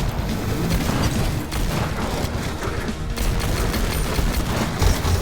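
Dense, continuous automatic gunfire from an uncontrollable weapon in the roguelike FPS Unyielder, a loud unbroken fusillade with booming impacts and no pauses.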